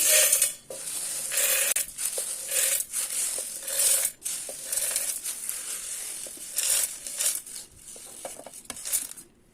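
Dry roasted lentils tumbling and rattling into a mixer jar, a bright crackling patter in repeated pours with brief gaps, close and fairly loud with no talk.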